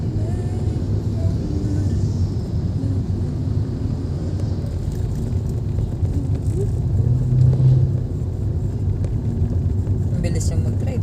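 A car goes by on a road and its engine rumbles steadily with road noise throughout. The sound swells slightly near the middle, with people talking over it.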